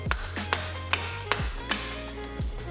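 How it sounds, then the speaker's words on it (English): Six sharp metallic hammer blows at uneven intervals, each with a bright ringing ping, struck close by against a low steady hum, knocking out an axle on a Mk5 Volkswagen Jetta. "Grab your good old overpriced snap-on hammer"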